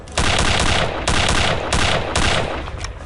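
Enemy gunfire in the game Return to Castle Wolfenstein comes as four loud, close bursts of rapid automatic shots, each lasting roughly half a second with short gaps between them.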